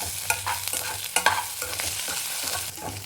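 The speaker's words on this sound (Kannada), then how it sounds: "ಈಗ ಸ್ವಲ್ಪ ಹಂಗೆ ಮೆಣಸಿನ್ಕಾಯಿ ಹುರ್ಕೊಳ್ಳೋದು" Green chillies fry in a pan with a lively, close sizzle, broken by sharp clinks and scrapes of stirring spread through the short stretch.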